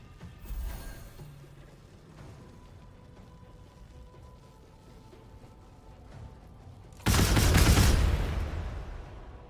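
Bombs explode in a Baldur's Gate 3 battle: a muffled early thump, a quieter stretch of low ambience, then a loud broad blast that bursts in and decays slowly over the last seconds.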